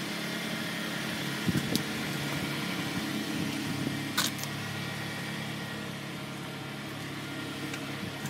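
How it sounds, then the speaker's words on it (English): A Kia Sorento EX with a V6 GDI engine idles steadily, a moderate even hum with faint mechanical whir, broken by a couple of brief light clicks, heard nearby without talk. "This is having a V6 engine,"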